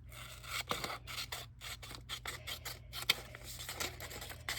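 Scissors trim a sheet of sketching paper to size, a close run of rapid, rhythmic snipping and rustling cuts with short pauses between strokes and no speech.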